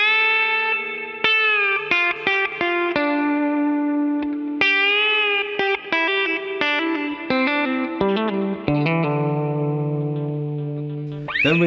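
Electric guitar playing the opening part of a song's solo, a clean run of bent and picked melodic notes with light effects, close and steady, with no talking.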